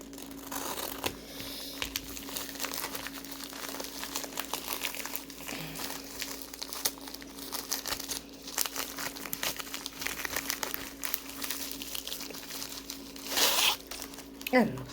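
Plastic packaging of a diamond painting kit being opened, with steady close-up crinkling and occasional tearing, louder bursts near the end, while someone talks throughout.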